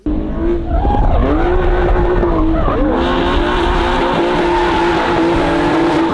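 Car engine revving hard with tires squealing and skidding, loud and continuous for several seconds, the pitch sweeping up and down as the car slides, no talking over it.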